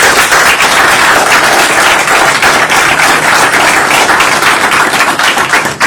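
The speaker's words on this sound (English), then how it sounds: "let's give them another round of applause" Sustained, dense clapping at a city council meeting in honor of the fire department, a steady round of applause filling the room for several seconds without voices.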